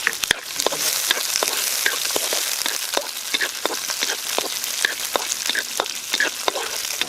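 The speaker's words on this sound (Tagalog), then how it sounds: "Magigisa na tayo ng bawang. Sibuyas po mga kabab." Chopped garlic and onion sizzle in hot oil in a pan, a steady close crackle broken by sharp pops and spatters, with occasional stirring and no talk.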